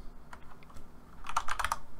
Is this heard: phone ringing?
no